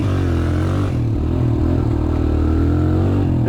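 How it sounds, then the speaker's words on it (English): A Suzuki DR-Z 125 dirt bike rides along a woodland trail: a loud, close, steady engine drone with rattling clatter dips briefly near the start and then holds on, with no talk. "This bike's actually really nice to drive in the trails."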